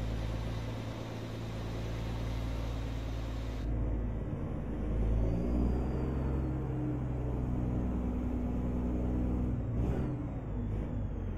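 Autocar AT64 truck engine driving in American Truck Simulator, a steady low diesel rumble with a brief hiss near the end, heard alone.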